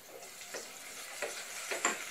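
Ginger and garlic sauté in oil in a pan for a Swahili beef biryani, a soft steady sizzle broken by a few scraping stirs, close and alone.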